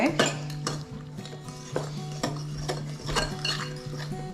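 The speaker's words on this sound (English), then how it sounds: "Mix that together." Zucchini bread batter being mixed in a bowl, with a utensil repeatedly clinking and scraping against the sides in a steady rhythm, close and fairly loud, with no talking.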